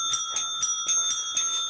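Small bells on a cat toy jingle in quick bursts, about seven bright metallic shakes in under two seconds, close and clear with no talk over them.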